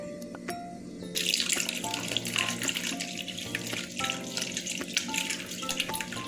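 Water runs from a tap and pours steadily into half a cup of custard powder for halwa, a continuous splashing stream that starts after a brief quiet moment and stays fairly loud throughout.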